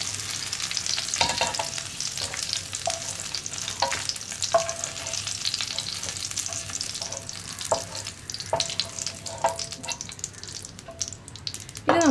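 Onions and curry leaves fry in oil with a constant crackling sizzle, close up, broken by repeated light taps and stirring sounds, with no voices.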